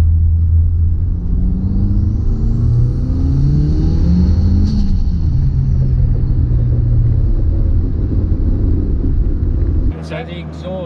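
A Mitsubishi VR4 with a boosted 4G63 engine and a quiet, restrictive exhaust, rumbling loudly up close as it revs with a rising and falling pitch, then cutting to a quieter idle near the end.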